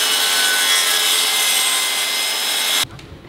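A jigsaw cuts wood at angles during a truck camper build, giving a loud, steady buzzing rasp close by for nearly three seconds before it stops abruptly, leaving a low hum.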